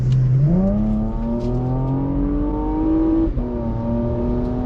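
A 2016 Porsche Macan GTS SUV engine revs up steadily, pitch climbing through the gears with a brief dip near the end, loud and close with no talking.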